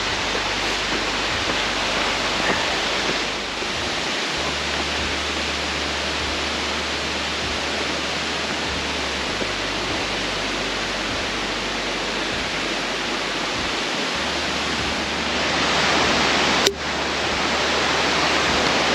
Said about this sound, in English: Mini waterfall as we're about to cross over the bridge